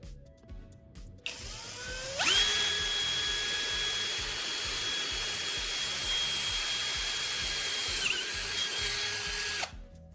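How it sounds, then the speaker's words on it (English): A power drill runs steadily while bores a hole near the end of a PVC pipe, its motor spinning up to a sustained high whine for about seven seconds. The sound is close and loud, with a small wobble in pitch before it cuts off. "Then you drill another hole near the end of the PVC pipe."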